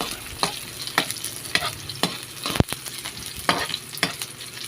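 Moringa leaves being toasted in a pan, with soft sizzling under a series of sharp stirring scrapes and clinks that come roughly every half second, close and fairly quiet.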